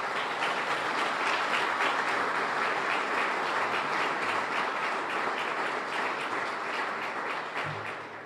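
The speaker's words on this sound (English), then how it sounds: "Can we give her a round of applause?" A crowd at a police chief swearing-in ceremony in New Haven, Connecticut applauds, a dense sustained wash of clapping that holds steady for several seconds before starting to taper off.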